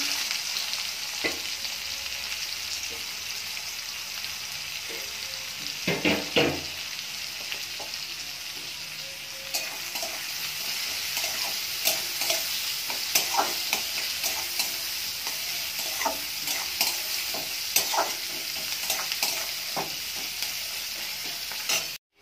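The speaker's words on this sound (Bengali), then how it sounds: "পেঁয়াজটা ভালো করে ভেজে নেব।" Steady oil sizzling from chopped onions frying in a pan, with frequent scraping and clinking of a spatula stirring throughout, close up and fairly loud.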